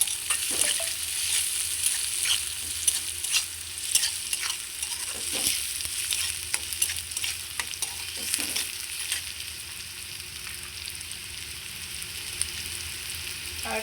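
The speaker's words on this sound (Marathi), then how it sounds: "टोमॅटो टाकायचं थोडं चांगलं परतून घ्यायचं" Tomatoes stir and sauté in hot oil for a leftover-chapati chivda, with a steady close sizzle and frequent scraping spoon strokes throughout, no talking.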